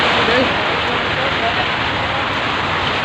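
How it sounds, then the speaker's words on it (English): Rain falls on an umbrella in Doha, Qatar, a dense, constant pattering close overhead that stays steady and loud throughout. "It's raining in Doha."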